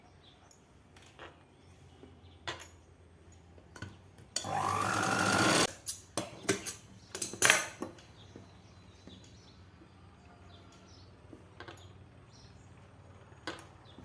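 A sewing machine runs in one loud, steady burst of about a second and a half while stitching a seam on a 42-inch blouse side joint, followed by a few short clicks and taps of handling in an otherwise quiet room.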